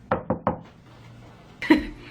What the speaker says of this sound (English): I knock.